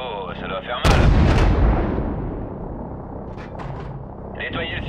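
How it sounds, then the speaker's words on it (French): Cannon fire in Call of Duty: Modern Warfare Remastered: a single heavy, loud boom with a long rumbling tail, with radio-style voices talking before and after. "Canon prêt! Tirez!"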